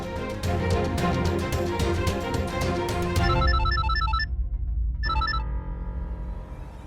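A phone rings unanswered in a call to Chitra, electronic trilling bursts emerging over dramatic background music and then repeating after a short gap.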